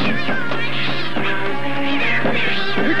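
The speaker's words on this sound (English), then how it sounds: "Hey, there goes the cat." A cartoon cat gives loud, wailing meows and yowls that run continuously, with the voice rising and falling and no pause.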